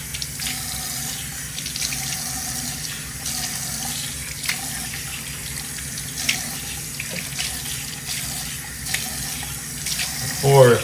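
Tap water runs steadily from a faucet into a bathroom sink that is being tested for slow draining, a constant close hiss and splash with brief faint voice and small knocks near the end.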